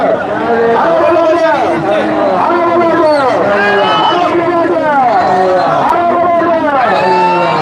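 Protest crowd at Occupy Galle Face in Sri Lanka, many voices chanting in a repeating rhythmic call, loud and close, with rising and falling cadences over a steady din.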